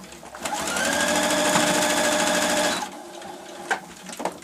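Sewing machine stitching a seam on a fabric cosmetic bag, a steady close whirring run of about two and a half seconds, followed by a few small clicks and handling sounds.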